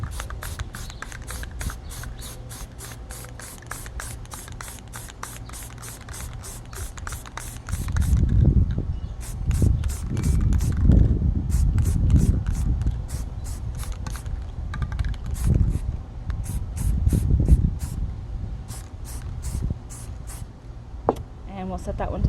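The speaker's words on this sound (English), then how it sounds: "So you'll spray it." A spray can hisses in several sustained bursts as paint is sprayed onto a tumbler being prepped for glitter and epoxy, with a rattling clicking pattern running above and the hisses swelling and fading under occasional talk.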